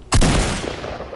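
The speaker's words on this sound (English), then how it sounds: "Stop shooting at me." A single loud gunshot in a video game, a sharp close crack that decays into a long rumbling tail of echo, with no speech.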